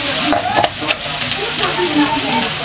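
Chicken Bicol Express with chili sizzles and fries in a pan, a steady crackling hiss with occasional stirring clatter, and a voice talks briefly over it.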